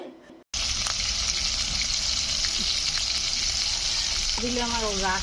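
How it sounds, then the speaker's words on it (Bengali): Prawns lightly frying in hot oil over a wood-fired stove, a dense close sizzle that starts abruptly after a brief quiet moment, with a faint tonal whine near the end. "তারপর চিংড়ি মাছগুলো হালকা হালকা করে ভেজে নেওয়া হচ্ছে"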